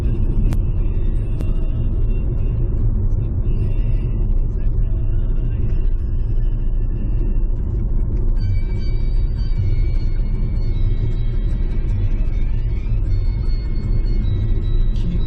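A car drives along a smooth tar road on a road trip to Mainpat, giving a steady, close rumble of engine and tyres throughout, with faint background music above it.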